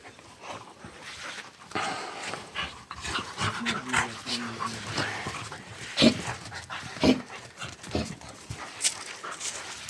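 A dog pants rapidly and close by in uneven bursts, with a few soft whimpers mixed in.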